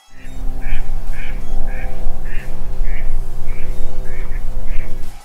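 Ducks quacking in a loud, close series of about ten short, evenly spaced quacks over a steady low background hum, with no talk.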